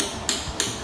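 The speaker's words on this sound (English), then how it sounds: "And what you do is hammer them in" Hammer blows driving nails into a cardboard roll to make a rain stick: three sharp, evenly spaced strikes, close and clear, with no talking.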